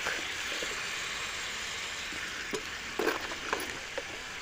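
Masala with tomato and salt sizzles and fries steadily in a pan, a close, continuous crackling hiss with a few brief clinks of stirring near the end.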